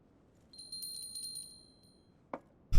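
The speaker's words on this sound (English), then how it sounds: "Here's a little bell." A small bell in Final Fantasy 16 chimes with a bright, sustained ringing tone of several quick strikes, followed by a faint click and a louder thump at the end, with no speech.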